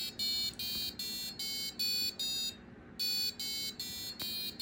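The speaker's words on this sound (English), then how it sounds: "So now we can listen to the buzzer play" Arduino buzzer sounding a series of piercing electronic tones in short, evenly spaced bursts, stepping up and then down the scale with a brief silent gap in the middle, close and alone.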